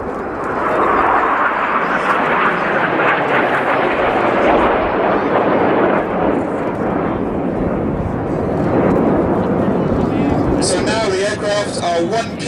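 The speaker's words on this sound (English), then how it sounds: "he's rolling back to form Typhoon formation as Jace pulls them up in 4G" Red Arrows jets fly an airshow display at Roskilde, rolling into Typhoon formation, producing a loud, sustained roaring rumble overhead that swells and fades, with commentary over it.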